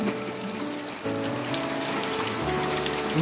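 Heavy rain pouring down steadily, a dense close hiss of drops hitting surfaces with a low hum underneath and no voices.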